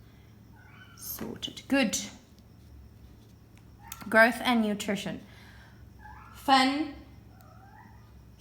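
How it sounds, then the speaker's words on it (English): A house cat meows a few times, each call drawn out and fairly close, between stretches of a person talking over a faint steady hum. "Sorry about my cat."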